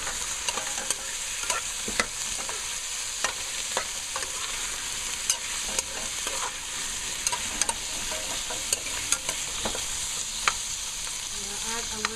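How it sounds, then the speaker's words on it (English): Beef chunks fry in a stew pot with a steady soft sizzle, broken by occasional sharp clicks and scrapes of stirring, fairly quiet and with no talking. "I throw the beef in."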